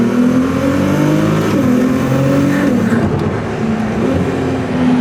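Ferrari 296 GTS engine heard from inside the car while driving at legal speed with a rear window open, a loud steady drone whose pitch rises and dips, with faint turbo whine above it.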